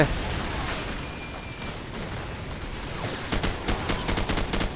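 Gunfire in Call of Duty Modern Warfare, with quieter distant shots early on and then a close, rapid automatic burst of sharp cracks near the end, with players talking faintly.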